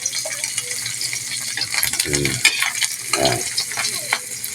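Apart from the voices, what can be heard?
frying dried fish (tuyo) in a pan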